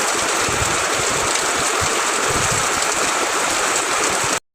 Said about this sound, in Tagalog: Buti na lang nung lumakas nga yung ulan ay nandito na nga kami sa bahay.